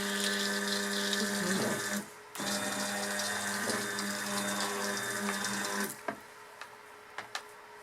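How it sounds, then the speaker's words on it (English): A stick blender on its low setting mixes lavender goat milk soap batter with a loud, steady electric whine and watery churning, cutting out briefly twice, then stopping near the end, leaving a few faint clicks. "So I have my stick blender set at 1 instead of 2."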